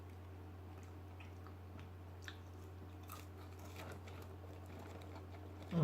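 Crunchy fast food being chewed close up, with soft repeated bites and crunches over a low steady hum, rising louder at the very end.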